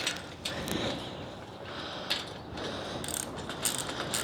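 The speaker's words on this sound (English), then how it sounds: "tighten all these bolts down." Hand ratchet tightening bolts on a Gorilla Cart GOR400 garden cart during assembly, a steady run of rapid clicking pawl strokes close to the microphone with a few louder bursts, no talking.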